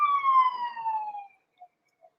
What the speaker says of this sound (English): Besides that siren that just went by